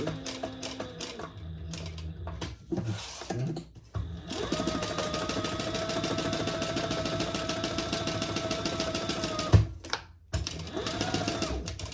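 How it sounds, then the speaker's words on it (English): A sewing machine stitches the sides and bottom of a crossbody bag, first in short, choppy bursts and then in a long steady run, close up, with a brief break near the end. "we're just going to stitch that on the sides and the bottom"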